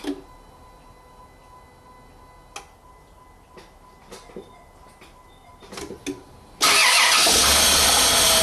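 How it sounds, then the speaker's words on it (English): A 2005 Chrysler Grand Voyager with a dead fuel pump: a few faint ignition clicks, then the starter cranks loudly and steadily for the final two seconds without the engine catching. "I'm just gonna prime it a few times on the ignition, and then I'm gonna try to start it"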